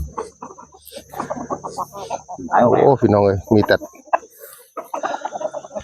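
Fighting cocks on a Thai gamecock farm cluck and call in short bursts close by, mixed with someone talking over them and a steady high insect-like whine in the background.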